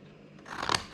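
Scissors snip through paper to set up a fold line, a single short close cut that swells into a crisp crunching slice at the end.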